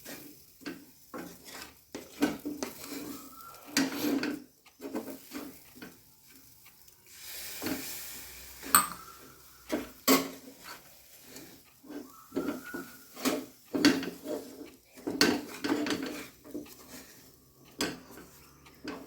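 Rava laddu mixture being stirred in a pan as milk is added, with quiet repeated scraping and clinking of a spoon against the pan in an irregular rhythm, close but soft.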